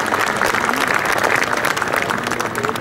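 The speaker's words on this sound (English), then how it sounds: "DRDO and our chief guest here today, Dr. Saraswat, who was one of the architects of the program, should be applauded for this achievement" Audience applauding at a university convocation ceremony for a missile-program scientist, a loud, sustained wash of many hands clapping that stays dense and even throughout, with no speech on top.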